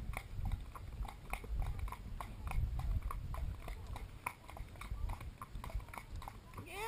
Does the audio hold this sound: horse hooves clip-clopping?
yes